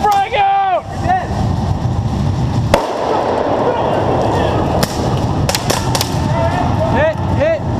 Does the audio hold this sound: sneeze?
no